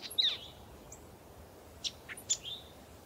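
Two birds perched on a spring branch give a few short, high chirps and tweets, scattered and fairly close over a quiet background.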